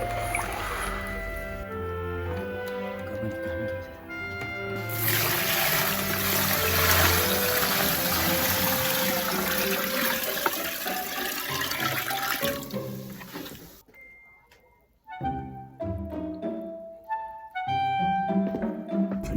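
Water poured into a crock for making doenjang from meju, a rushing, splashing stream that swells for several seconds and then trickles off, with clinks and handling sounds around it.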